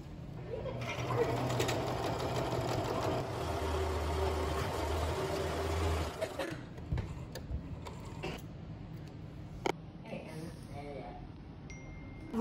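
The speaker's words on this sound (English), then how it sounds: "I'm gonna sew down here, and that way it'll come out like that." Domestic sewing machine stitching a T-shirt blanket, a steady mechanical whir running for several seconds before stopping, followed by quieter handling noises with some background speech.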